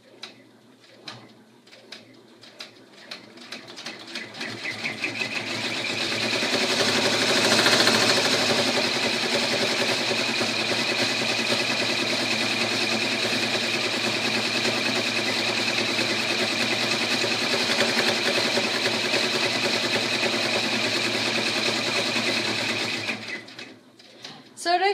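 An embroidery machine stitches black pupils onto a troll girl appliqué, making a rapid, steady mechanical whir that ramps up, holds for around fifteen seconds at close range, then stops, with a little talk at the edges.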